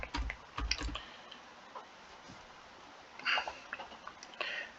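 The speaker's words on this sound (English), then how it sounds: "Let's type him in." Keys tapped on a computer keyboard to enter a player's name, a few quick bursts of clicks in short clusters separated by quiet gaps, close and fairly soft.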